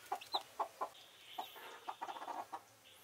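Chickens on a West African homestead with freshly hatched chicks cluck in a quick run of short, fairly close calls, one sharper squawk among them, with no talk.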